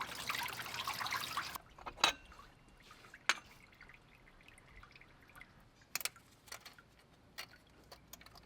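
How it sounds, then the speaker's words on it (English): Coolant from an Isuzu MU-X / D-MAX 4x4 water pump trickles briefly into a drain tray, then falls as scattered single drips with uneven gaps, faint and close with no voices. "I've just got my drain tray under there just to catch any coolant that will come out when I remove the water pump."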